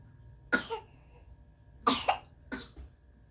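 Three separate coughs, nearby and fairly sharp, spaced unevenly over a few seconds against a quiet background.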